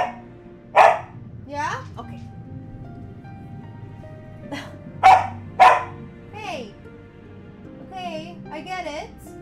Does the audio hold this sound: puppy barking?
yes